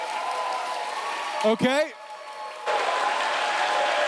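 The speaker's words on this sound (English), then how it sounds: "Please hold your applause." Audience applause at a district council candidates' debate fills the room as sustained clapping, broken by a brief spoken voice midway before the clapping swells again.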